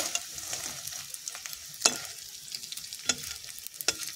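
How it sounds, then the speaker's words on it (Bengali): Potato rolls fry in hot oil with a soft, steady sizzle, while a utensil stirs and scrapes at a few sharp moments; nearby and fairly quiet, with no talking. "তারপরে এখানে আমার আরও ভাজা হচ্ছে"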